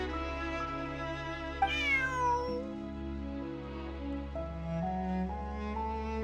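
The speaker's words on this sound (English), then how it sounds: "Bonnie is Pierre's cat" A cat meows in Genshin Impact, a drawn-out rising and falling meow near the start, set against a steady sustained tonal music bed that continues alone afterward.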